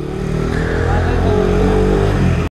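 A Yamaha R6 sports motorcycle pulls away with a steady, loud engine drone and low rumbling harmonics that hold throughout before cutting off sharply.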